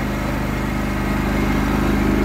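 Cub Cadet GT2544 lawn tractor engine running at a steady, even drone as it drives onto sand on a driveway, close and continuous with no voices.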